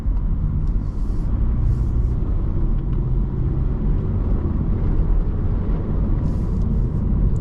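Honda Civic pulling hard under heavy throttle out of a turn on a snowy road, with open differential; a loud, steady low engine and road rumble heard from inside the cabin, no voices.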